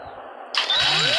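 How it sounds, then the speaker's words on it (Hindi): A tractor engine, ready to head to the field with a luffer machine, turns over and catches about halfway through, then climbs into a loud, close rising whine with no voices. "Luffer machine is ready and we drive the tractor toward field."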